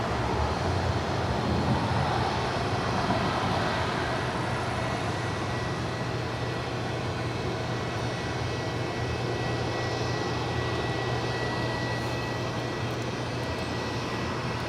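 A Delta Airlines Boeing 737-900ER at LAX gives off a steady, distant engine roar with a constant low drone and broadband rush that holds even throughout.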